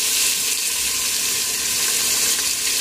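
Chopped onion dropped into hot oil with asafoetida in a home kitchen, giving a loud, steady hissing sizzle that holds evenly throughout.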